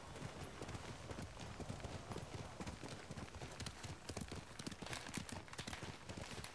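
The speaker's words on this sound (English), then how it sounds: "What are you doing, horse?" Horse hooves clip-clop steadily in the Ghost of Tsushima video game, a continuous quick rhythmic trot with dense overlapping hoofbeats, heard clearly and mostly alone.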